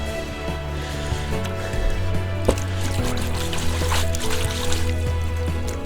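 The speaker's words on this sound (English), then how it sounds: "rinse it off, and then put it in here." Water rinses over a cast iron grill grate from a Broil King Keg, a steady trickling and splashing stream with a low hum running underneath throughout.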